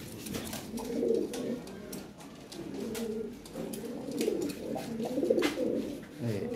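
Pigeons coo in repeated soft, throaty phrases at a pigeon seller's loft of fancy, Bombay and Lahori pigeons, several birds overlapping at close range against a faint background hiss.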